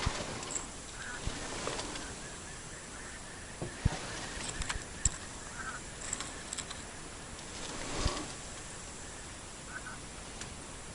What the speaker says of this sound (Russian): Гуси.